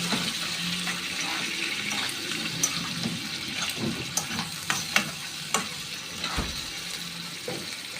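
Chicken liver and gizzards, washed with tahini and lemon, sauté in a hot pan with a steady sizzle. Scattered clicks and scrapes of stirring come through close up, with no talk.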